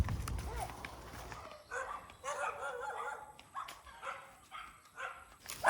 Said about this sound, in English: So you have to pass the barking doggies.